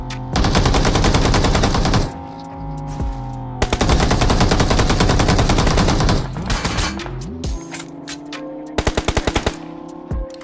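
Gunfire in a shooter video game, loud sustained automatic bursts with short gaps, then a quick volley of single shots near the end.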